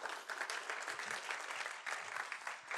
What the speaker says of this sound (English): Great round of applause for these teams.